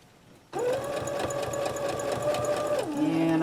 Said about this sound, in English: Now stitch carefully as you come to where the folds are.